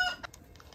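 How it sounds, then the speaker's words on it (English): Chickens in a chicken run give a sharp cluck and a few brief squawks close by, short bursts separated by quiet gaps. "Now a long chicken run for all the chickens."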